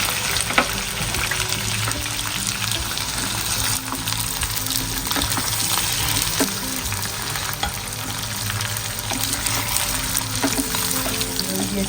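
Whole garlic, a little onion and red chili sizzle and crackle in hot tempering oil for beef kala bhuna, a loud, continuous frying hiss with occasional stirring clinks and no talking.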